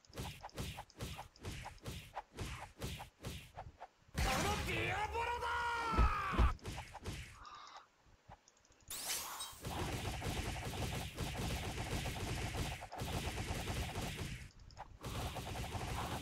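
A stand's rapid barrage of punches in the Roblox game Your Bizarre Adventure: a fast, evenly spaced string of sharp hits opens the sequence, followed by a dense, continuous flurry of impacts, with voices talking in between.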